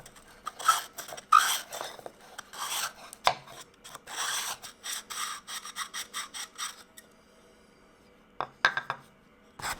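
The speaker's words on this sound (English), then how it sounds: "There's got to be a better way to sand inside this." Sandpaper rubs inside a small wooden puzzle box in close, rhythmic rasping strokes, steady for several seconds, then a pause and a few final scrapes.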